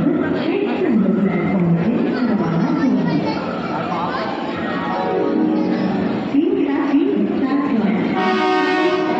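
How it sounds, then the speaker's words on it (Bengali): The Mumbai Mail pulls into platform 8 at Howrah station amid constant crowd chatter and announcements, with a long, loud, sustained rumble of railway cars and a horn-like tone sounding near the end. "আমাদের মুম্বাই মেল এই ঢুকলো, ট্রেন এসে গেছে"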